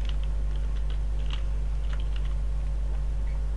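Scattered clicks of computer keyboard keys pressed during a game of QWOP, sharp and close, clustered early then thinning out above a constant low hum.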